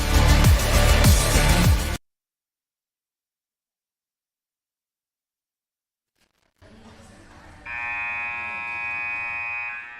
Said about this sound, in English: You hear the buzzer here as they get set for some introductions